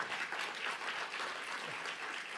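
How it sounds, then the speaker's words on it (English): Brief, steady applause from a reentry conference audience, a soft, even patter of many hands clapping throughout with no voices over it. "I just want to give you a round of applause"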